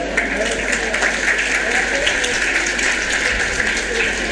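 Audience applause for a guest painter at a school event, a steady dense wash of clapping that fills the whole stretch at close, even loudness.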